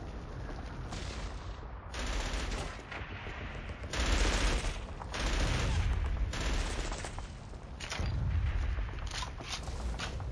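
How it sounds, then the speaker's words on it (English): Heavy machine gun fire in the Killzone combat game rattles in long, loud sustained bursts that swell and ease over about ten seconds, with booming impacts mixed in and no voices. "See what you can do about that machine gun!"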